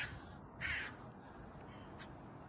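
A crow gives two short harsh caws by the river Tyne near Newcastle, fairly close against a quiet outdoor background with faint distant traffic hum.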